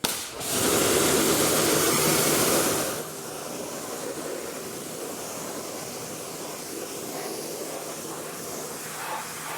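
A strong water spray hisses loudly for a few seconds while rinsing a Tesla Model 3's wheels, then drops to a steadier, softer rush of spraying water.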